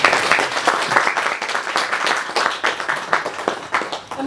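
An audience at a 2015 UK community association meeting breaks into lively applause, a dense, close burst of many hands clapping that carries on steadily for a few seconds.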